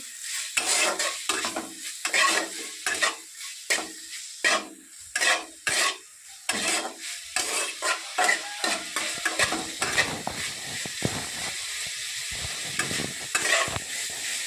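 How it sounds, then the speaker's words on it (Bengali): Spring onions, spinach, chilies and other vegetables stir-fried in a pan for homemade fried rice, with rapid rhythmic scraping and tossing strokes over a bright sizzle, close and loud, no voices. "দিয়ে সমস্ত সবজি ভালোভাবে চেড়ে ভেজে নেব"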